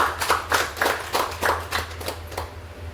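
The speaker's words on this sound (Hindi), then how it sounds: "प्रदीप सर के लिए एक जोरदार ताली दीजिए।" Roughly eight loud, separate claps in an uneven rhythm at a weekly business networking meeting, close and fairly crisp over a low steady hum, with no talking.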